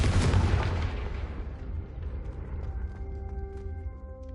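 A Confringo fire spell from a Harry Potter video game bursts in one loud, booming explosion, then rumbles and crackles as it fades over a few seconds, with faint magical tones ringing underneath.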